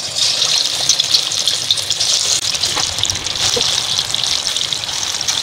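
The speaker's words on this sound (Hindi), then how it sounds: "इसे तलते हैं हम" Marinated chicken broast frying in hot oil over a medium flame, a steady broadband sizzle and crackle holding level throughout with no talk.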